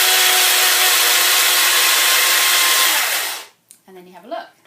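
Electric grinder whirring loudly and steadily while grinding oats and rose petals for a facial scrub, running close up for about three and a half seconds before cutting off, followed by brief handling sounds.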